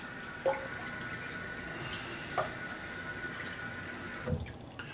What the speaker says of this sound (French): On va rajouter de l'eau.